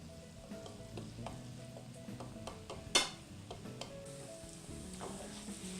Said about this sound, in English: we'll add our shallot, bring the temp up to a medium high, and we'll sweat the shallots